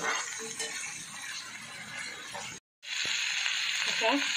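Stuffed pomfret sautéing in a pan gives a soft, low sizzle with occasional utensil clinks, a brief silent gap partway through, while a person talks over it.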